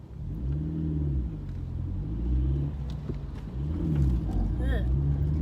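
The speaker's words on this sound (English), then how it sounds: "My car did not want to go then." Car engine revving low and labouring as it struggles to pull away in first gear, a rumbling drone whose pitch rises and dips, with a brief voice near the end.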